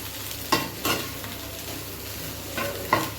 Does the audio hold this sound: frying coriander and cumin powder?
yes